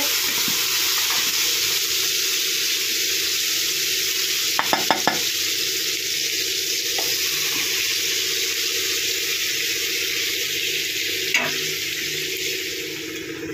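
Mutton fries with bay leaf and onion, giving a steady loud sizzle throughout with a few brief clinks and scrapes of stirring.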